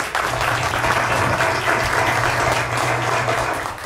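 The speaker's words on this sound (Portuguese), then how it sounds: "Por favor, plateia, aplausos para os nossos manifestantes." Sustained applause from a studio audience cheering protesters at a live show, a dense even wash of clapping that holds steady at full level throughout with a low steady hum beneath.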